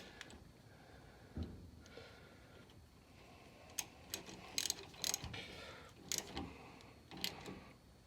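Ratchet clicking while tightening brake parts on a 2005 Nissan Titan during a front and rear brake job, heard as several short bursts of rapid clicks with pauses between, close and fairly faint, with no talk.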